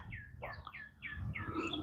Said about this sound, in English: I love the sound of the birds singing.